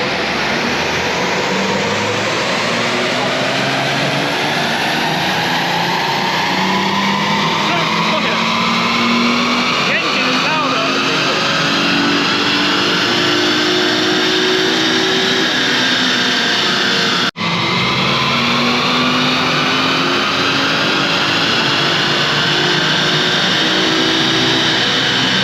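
Peugeot 407 Coupe engine held at high load on a dynamometer during a power run, a loud continuous roar whose pitch climbs steadily over about twenty-five seconds with a brief dip near the end, with a voice speaking over it.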